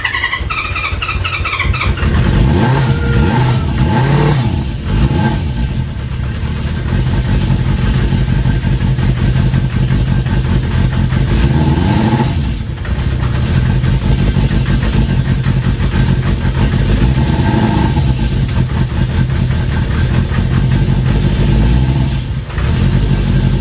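A 1973 Harley-Davidson Sportster engine idles close by, a steady loping rumble that runs unbroken for over twenty seconds, with the idle raised slightly and no voices over it.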